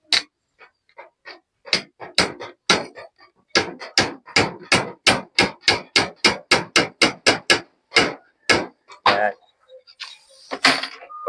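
A hammer drives nails into scrap wood while a duck pen for Muscovy ducks is built, with sharp, evenly spaced blows in a steady run, loud and close, then a pause and a few scattered knocks at the end.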